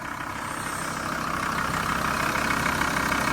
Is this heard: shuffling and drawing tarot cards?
no